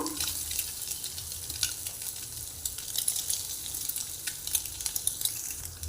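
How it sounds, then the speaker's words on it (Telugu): Eggs fry lightly in spices in a pan with a continuous close crackling sizzle and small popping bursts, alongside soft scraping and a low rumble, and no talking. "ఇక్కడ మనం ఎగ్స్ వేసుకుందామండి లైట్గా ఫ్రై అయితే సరిపోతుంది"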